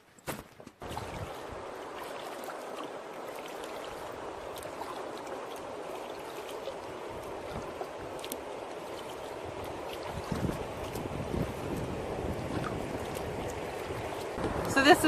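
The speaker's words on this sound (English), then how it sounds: "So this is rushing in from Manitou into the Amable de Fond River." Water rushing from Manitou into the Amable de Fond River, a steady broadband roar of moving current heard up close outdoors, holding constant and swelling slightly toward the end.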